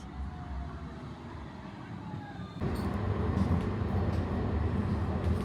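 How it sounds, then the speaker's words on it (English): A London tram runs with a loud, rumbling interior noise that swells suddenly halfway through, with faint speech now and then. "it is really loud on this tram"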